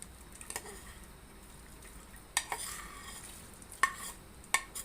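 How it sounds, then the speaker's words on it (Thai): Soap being stirred into water over low heat to dissolve it for homemade liquid soap: a quiet, steady swirl with a few sharp clinks of the utensil against the pot, and no voices. "เฮาก็สิกวนให้สบู่ละลายเนาะจ้ะ"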